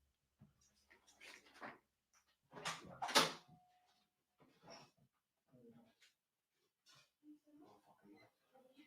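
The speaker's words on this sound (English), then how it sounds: "my dog's going crazy" Close by indoors, a dog whimpers and gives short excited barks and yelps in scattered bursts, with the loudest cluster near the middle and quieter whines and breathing trailing off afterward.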